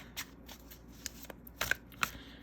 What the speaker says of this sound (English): Let's do a little hand over hand, in case you're a hand over hand shuffler.